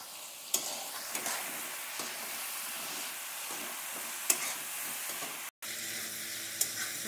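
Pumpkin frying in a pan with turmeric and salt, a constant close sizzle broken by sharp scrapes and taps of stirring, and one brief dropout near the end.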